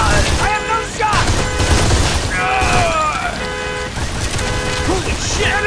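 Rapid gunfire from the Android shooter Modern Combat 4: Zero Hour, loud and continuous with dense shots and impacts. Game voices shout over the battle noise throughout.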